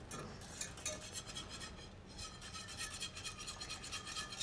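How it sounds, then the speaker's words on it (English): Food rubbed against a hand grater while making a mascarpone sauce with caviar, giving a quiet, steady rasping scrape in a repeated back-and-forth rhythm, close and fairly faint, with no talking. "we're gonna start by just grating these"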